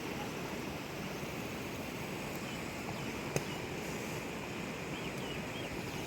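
A heavy storm brings rain, wind and rushing floodwater as a dense, unbroken roar, with one short sharp knock partway through. Nobody talks.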